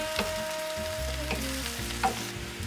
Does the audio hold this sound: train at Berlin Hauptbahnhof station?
no